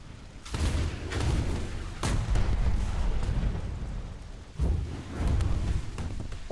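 A TO-55 flamethrower tank in War Thunder firing its flamethrower together with its machine gun, a loud roaring, crackling blast that repeats in a few surges with brief pauses between, and no talking.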